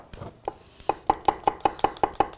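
Garlic being finely minced with a knife on a cutting board, a steady run of about a dozen crisp chops speeding into an even rhythm, close and clear with no talking.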